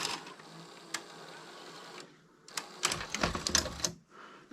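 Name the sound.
Mitsubishi HS-B70 VHS VCR ejecting a tape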